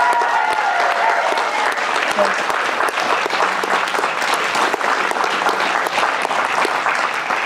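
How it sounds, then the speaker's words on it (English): Sustained applause and cheering from a crowd honoring veterans at an outdoor Veterans Day ceremony, a steady dense roar of clapping with scattered shouts running throughout. "give a really big round of applause and cheer for every veteran that is here standing among us"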